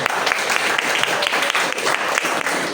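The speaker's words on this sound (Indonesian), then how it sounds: "Saya boleh tepuk tangan untuk kelompok 4." A classroom audience claps for a student group at a school event, giving steady, moderately loud applause that runs evenly and close for a few seconds without voices.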